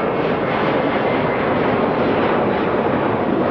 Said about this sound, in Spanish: mira, pasan los aviones por aquí encima,